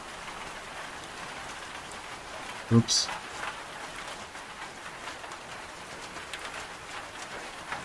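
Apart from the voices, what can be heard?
rain falling in the video game Project Zomboid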